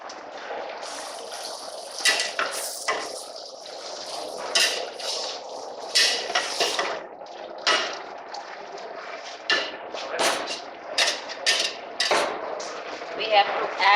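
Ingredients get mixed in a metal pot for a Jharkhand dish, with a spoon clinking and scraping against the sides in irregular bursts, close up over a soft background.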